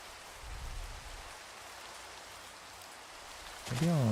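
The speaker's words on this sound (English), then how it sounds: "As much as I enjoy the pitter-patter of rain" Steady soft rain hiss patters through a Minecraft world, a continuous even wash of drops, with a brief tonal game sound breaking in near the end.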